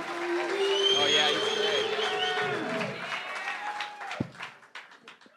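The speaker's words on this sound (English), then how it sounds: "Big pop from the crowd." A comedy club crowd at a live roast-style show lets out a loud burst of cheering and applause that fades after a few seconds, with someone talking over it.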